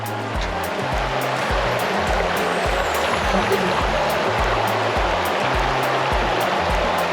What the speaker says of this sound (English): Currently walking up the riverbed, and not much water flowing through here.